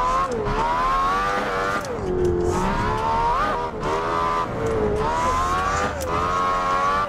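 A car engine revs hard at full throttle while drifting in a racing game, its pitch rising and falling through repeated surges with tire squeal mixed in, loud and continuous with no talk.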